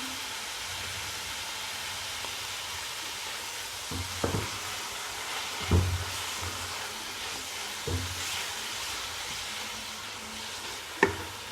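Chicken noodles with soy sauce and vinegar cooking in a pan, a soft steady hiss with a few dull stirring thumps and scrapes spaced across the stretch, fairly quiet and without speech.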